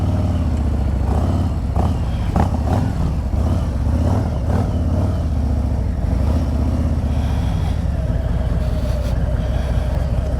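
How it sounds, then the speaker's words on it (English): A motorcycle engine revs gently and pulls away on a hill, its rumble rising and falling over steady background noise. "So I'm going to hold the bike back with the rear brake. I'm going to feed a little throttle."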